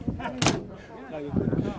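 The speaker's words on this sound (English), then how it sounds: "They're good clunk to the doors, aren't they?" A classic car door, a Farina-era Morris Oxford, Austin Cambridge or A40, shuts with a solid clunk that repeats, broadband thuds amid voices talking nearby at an outdoor car show.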